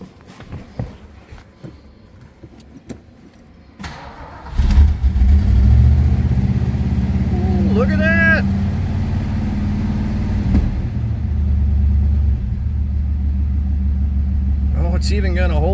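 Ford Foxbody Mustang, an Iowa survivor car, cranks and fires up after a few seconds of quiet handling noises, then settles into a loud, steady low rumble at idle with brief revs, as a person talks over it.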